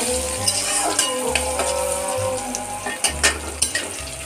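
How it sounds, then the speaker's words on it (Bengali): Steady sizzling of potatoes and onions frying in a pan, with a low hum underneath and a handful of stirring scrapes toward the end. "এটা একটু মোটামুটি আর কি একটু ভাজাবো"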